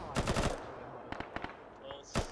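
Automatic gunfire in the military video game ArmA 3 rattles out in a quick burst, then several scattered single shots follow, loud and close amid faint background noise.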